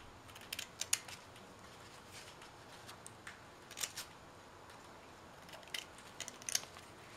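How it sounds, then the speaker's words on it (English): Scissors snip paper rectangles for papel picado fiesta streamers, a series of quiet, close crisp cuts in small irregular clusters. "So again, I'm going to cut out my rectangles on the side."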